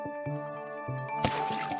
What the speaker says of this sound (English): Suddenly, the ant lost his balance and fell into the river water.